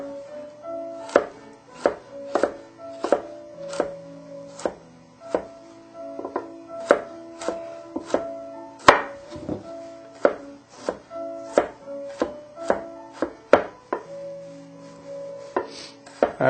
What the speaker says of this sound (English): If we take them and stack them and then just cut them into strips.